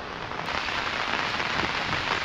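Steady rain falls on nearby surfaces, giving a dense, even patter throughout with no voices.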